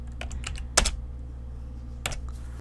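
Sparse keystrokes on a computer keyboard while entering Excel VBA code, a few soft clicks separated by pauses, then one sharper, louder tap and another near the end, close and alone over a low steady hum.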